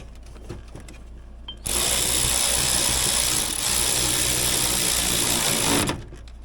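A socket wrench with a shallow socket works on a vintage Polaris Indy 500 snowmobile, giving a loud, steady rapid whirring rattle for about four seconds that starts and stops abruptly, with quieter workshop sounds before and after.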